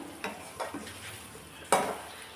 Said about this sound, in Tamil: ஒரு மூணு நிமிஷத்துக்கு இதை நல்லா வதக்கி விடணுங்க நல்லா எண்ணெய் பிரிஞ்சு வரணும்